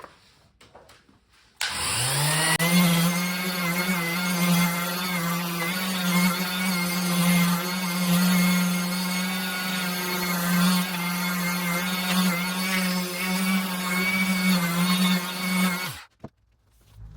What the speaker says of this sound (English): Now I'm going to hit it with some 1200 grit sandpaper.